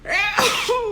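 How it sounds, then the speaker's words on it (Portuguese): A single sharp sneeze, close and loud, with a quick breathy intake before the burst. "Ai, vou espirrar, peraí."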